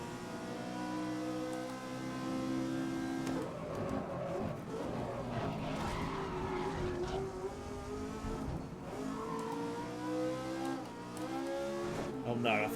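An old Ferrari race car roars around a track in GRID 2019's Petit Le Mans event, its engine droning and shifting pitch as it revs and slides, with someone talking over it throughout.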